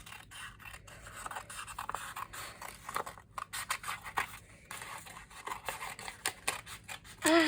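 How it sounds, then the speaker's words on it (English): Scissors snip steadily through scrap paper while an artist cuts out a frottage piece, a close run of short crisp cuts and rustles with brief pauses. "I'm going to cut it out."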